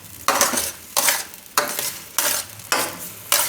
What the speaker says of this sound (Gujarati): અને આપણે શેકવાની છે ઘીમાં દાળને